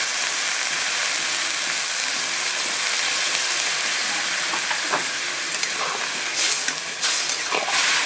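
Tender drumstick stalks and potatoes boil in a pot of water, a constant bubbling hiss up close with a few light knocks and clatters of a utensil toward the end.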